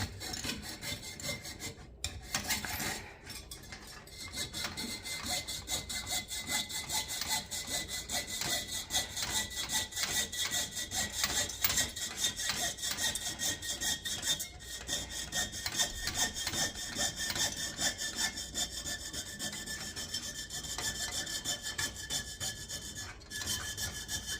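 A coping saw rasps rapidly back and forth through a large 6-inch copper disc in quick, even strokes, close up and continuous.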